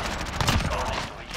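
A short burst of AUG rifle fire in a shooter video game, quick repeated shots that are moderately loud for about a second and a half.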